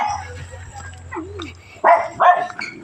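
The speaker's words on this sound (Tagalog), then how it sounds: "Oh, mga aso." Dogs in a rural area let out two sharp, close barks in quick succession after a quieter stretch with a brief whine, while people talk nearby.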